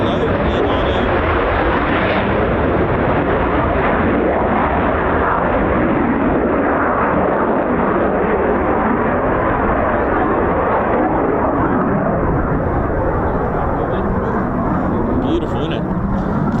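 A Eurofighter Typhoon FGR4 jet at RAF Coningsby roars loudly and continuously as it flies, a dense, thunderous rumble that holds nearly unchanged throughout, with people talking over it.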